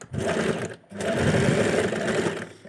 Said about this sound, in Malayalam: ഇപ്പം നമ്മൾ സ്റ്റിച്ച് ചെയ്ത് കഴിഞ്ഞു കേട്ടോ